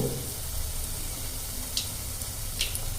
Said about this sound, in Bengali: এবার আমরা সব কটা এবার ভেজে নেব